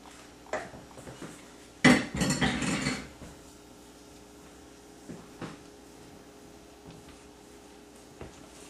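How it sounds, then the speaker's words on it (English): Wet and dry banana bread ingredients mixed in a bowl, with a sharp burst of clattering and scraping utensil knocks early on, then quieter intermittent clinks and taps. "Now we're going to incorporate the wet with the dry ingredients. And you mix them very, very well."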